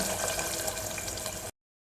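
Water is poured steadily into an egg and potato curry in a pressure cooker, a continuous splashing pour for about a second and a half that then stops abruptly.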